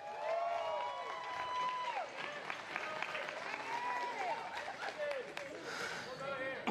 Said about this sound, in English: let's give all these turkey exhibitors a round of applause